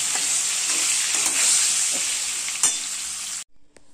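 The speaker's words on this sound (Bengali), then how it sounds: "বেগুনটা এখন এর মধ্যে দিয়ে দেবো, দিয়ে আমি একটু লাল করে ভেজে নেবো বেগুনটা" Long strips of eggplant fry in hot oil with a loud, dense, continuous sizzle that has a few crackling pops, heard close up. It cuts off abruptly near the end, leaving near silence.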